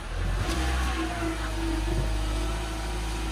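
A car engine runs after a jump start, a steady close rumble that rises briefly as it revs before settling into an even idle.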